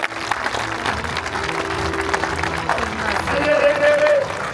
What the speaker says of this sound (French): Ça mérite plus d'applaudissements.